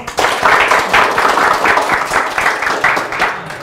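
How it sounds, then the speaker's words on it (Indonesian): Audience applause during an interview-style event, a dense, steady wash of many hands clapping that stays loud and even for the whole stretch. "Tepuk tangan dong"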